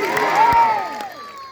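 A crowd cheers and shouts together at a Jaljhulni Ekadashi festival gathering at a Bhawani temple, a loud burst of many voices that swells and then tapers off.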